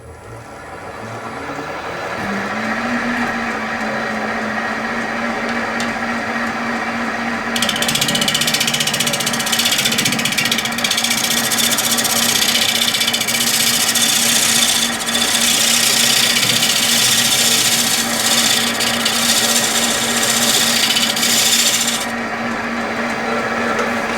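A 3/8 bowl gouge cutting a spinning wooden cube on a lathe: the motor spins up into a steady hum, then a loud, rough, chattering scrape of the tool against the wood runs for a long stretch before easing off.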